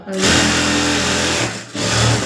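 A sewing machine runs steadily while stitching a hemming strip of cloth, a loud, close mechanical whir that stops briefly near the end before starting up again.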